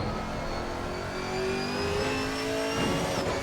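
Chevy Camaro GT4 race car engine in Assetto Corsa Competizione at Donington Park, revving and accelerating steadily at close range with rising and falling tones, no voices.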